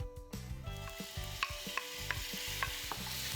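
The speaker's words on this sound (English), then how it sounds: "We just want to sear the shrimp." Shrimp sear in hot olive oil in a pan, a steady close sizzle broken by repeated scraping stirs at a regular rhythm, with no voices.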